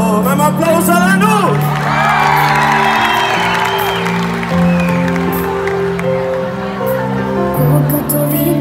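A concert crowd cheers, whoops and applauds for the singer, loud and sustained, with musical tones and a voice carrying over the crowd.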